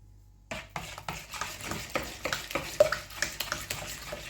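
Kefir with a teaspoon of baking soda being stirred briskly with a spoon in a bowl, a run of quick rhythmic scraping and clinking strokes after a brief silence, close and clear with no talk.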